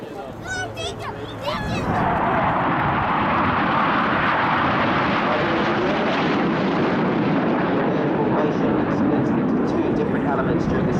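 BAE Hawk jets of the Saudi Hawks display team at an air show, a loud, sustained jet roar that swells and fills the air as they pass overhead, with a commentator over the public address at the start.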